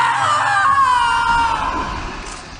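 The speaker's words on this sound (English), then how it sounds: "banshees screaming" Eerie ambient voices and banshee-like screams drift through the Elwynn Forest area of World of Warcraft, a sustained wailing, echoing wash that holds steady and fades slightly toward the end, with no talk over it.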